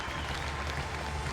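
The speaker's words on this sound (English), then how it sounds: "Grace Lahotte gets the applause she deserves" Steady, even applause from a large arena crowd for gymnast Grace Lahotte at the Glasgow 2014 Commonwealth Games, moderately distant and continuous throughout.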